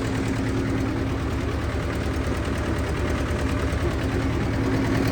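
A Zetor 1811 tractor engine runs steadily in low gear, a loud, continuous rhythmic chugging that holds close and even throughout with no talk.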